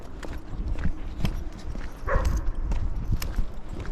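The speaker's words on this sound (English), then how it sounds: "Dogs barking at me." Dogs bark at someone walking through snow back to a parked truck, giving several short, close barks and yips over crunching footsteps, with no speech.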